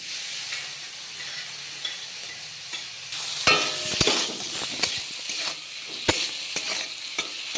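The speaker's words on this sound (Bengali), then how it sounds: "ওই একই তেলে আমি চিংড়ি মাছগুলিকে ভেজে নেব" Prawns fry in hot oil in a home kitchen, the leftover oil from cooking flat beans giving a steady broadband sizzle with sharp crackles and stirring clatters through the middle, close and moderately loud, no talking.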